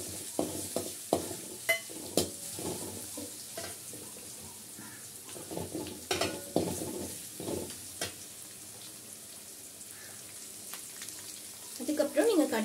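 Chopped ginger and garlic fry in a pan for mutton chukka: steady sizzling under repeated spoon scrapes and taps, with a brief burst of louder stirring at the end.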